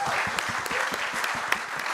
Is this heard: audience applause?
yes